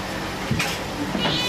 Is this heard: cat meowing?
yes